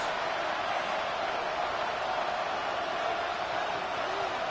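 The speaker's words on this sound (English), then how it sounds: "What about this crowd getting even louder before 3rd and 10?" A video game stadium crowd at an American football game roars steadily throughout, a dense wash of cheering voices holding at a constant loud level with no distinct speech.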